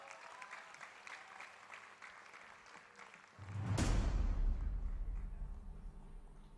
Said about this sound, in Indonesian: Boleh kasih tepuk tangan dulu dong buat Damian